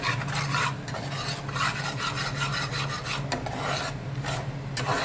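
Two spoons of gram flour roasted and stirred in a pan for stuffed green chillies, a steady dry scraping and rasping with a faint sizzle, close and continuous without pause.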